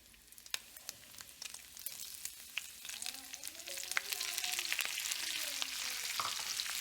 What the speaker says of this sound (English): Time to flip the bacon.